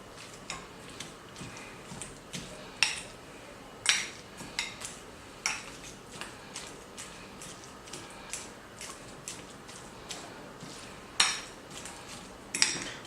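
Ripe avocado is mashed for spicy guacamole in a bowl, with a utensil repeatedly clinking and knocking against the bowl in an uneven rhythm of sharp taps over a quiet background.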